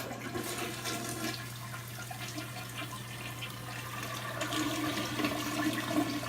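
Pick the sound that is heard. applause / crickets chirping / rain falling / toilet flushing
toilet flushing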